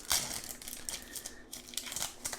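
A Capenna card promo pack wrapper being opened, with close crinkling and crumpling of plastic foil in short bursts, no talking.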